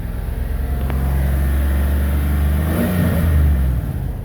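A 2008 Hummer H2 with a 6.2L V8 revs up close, holding a loud, deep, steady engine roar that climbs slightly toward about 3,000 RPM before easing back.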